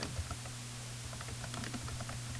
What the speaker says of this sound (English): I'm also going to type the department I work in